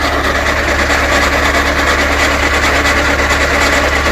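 A motor mower with a 1.65 m cutter bar, fully rebuilt, idles with a steady, loud, even chugging engine note close by and no talk.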